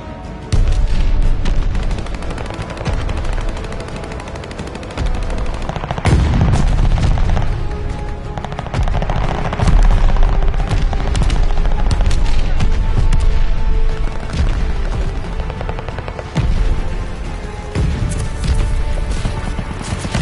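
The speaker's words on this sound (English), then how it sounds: "Allies calling a mortar barrage" Mortar barrage in a war video game: repeated heavy booming explosions mixed with rapid gunfire and machine-gun bursts, loud and continuous for the whole stretch, with a brief voice buried in the din.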